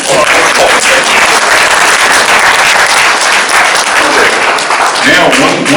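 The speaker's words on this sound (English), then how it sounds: "let's give him a warm round of applause" Loud, dense audience applause at a public meeting, sustained steady clapping from a crowd throughout with a slight swell near the end.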